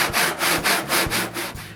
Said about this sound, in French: Je commence par couper des morceaux dans une planche de noyer.